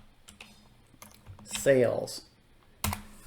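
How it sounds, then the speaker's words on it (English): Light keystrokes on a computer keyboard while entering a spreadsheet formula, a few sparse taps spread across the moment with a brief spoken word in the middle and a sharper click near the end. "let's just type in a named range."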